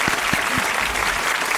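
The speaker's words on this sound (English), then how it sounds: "let's give a big round of applause" Applause from a show audience welcoming a first-time guest, steady, dense clapping at moderate level with a few low thumps near the start.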